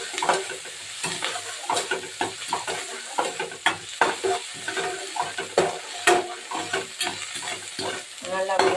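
Tomato being sautéed and stirred in a frying pan: steady close sizzling with frequent scraping strokes of a spoon against the pan, with no talking.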